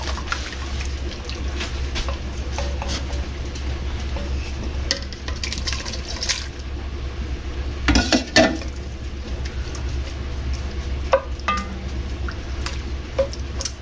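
Vegetables go into a pot of broccoli cheese soup seasoned with pepper and nutmeg, giving soft wet stirring and squishing with occasional clinks of a utensil against the pot. A sharper clatter comes near the middle, and no one speaks.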